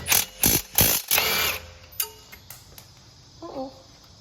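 Impact wrench loosening a knuckle bolt on a 2023 BMW M3 Competition, in several loud short bursts of mechanical rattle up close, followed by softer clanks and a faint squeak.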